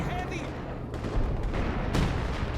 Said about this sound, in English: It's hard to see under all those explosions.